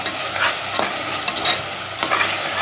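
Something sizzles and stirs in a hot pan during home cooking, a steady frying hiss broken by scraping spoon strokes roughly every half second, close and continuous with no talking.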